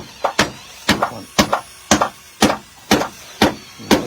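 Steady hammer blows strike wood about twice a second while laying a floor at a temple, sharp and close, with a few quick double taps and no voices.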